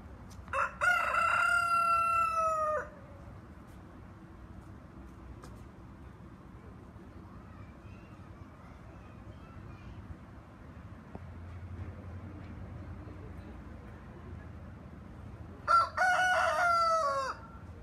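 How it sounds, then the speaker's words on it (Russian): Two Cochin roosters crow, one early and another near the end, with a long stretch of quiet outdoor ambience between the calls, at a private housing exhibition. "Очереди, главное, кукарекают. То один, то другой."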